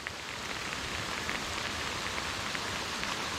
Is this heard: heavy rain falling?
yes